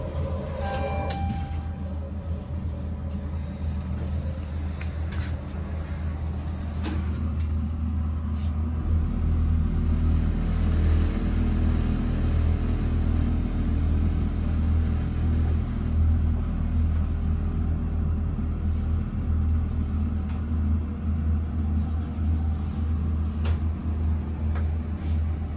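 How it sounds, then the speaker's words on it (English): A 1968 Montgomery hydraulic elevator at a department store in a mall runs through a ride up, its motor giving a steady low rumble and hum that strengthens partway through and holds loud and continuous, with no talk over it. "I wanna do a silent ride up so we can hear the motor."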